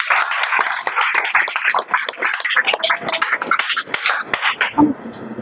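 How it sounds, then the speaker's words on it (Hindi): Students in a class clapping, a loud ragged round of many hands that thins out into scattered claps toward the end, with some voices mixed in. "एक बार ताली हो जाए इसके लिए।"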